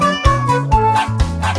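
A cartoon cat meows repeatedly in a children's farm song, the calls set over a steady musical backing with bass notes, loud and close, no speech.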